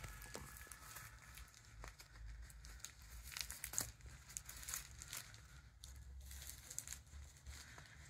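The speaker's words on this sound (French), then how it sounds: "Donc, je vais ouvrir mon cadeau." Wrapping on a gift is unwrapped with soft, continuous crinkling and tearing of paper, faint and close, with occasional sharper rustles.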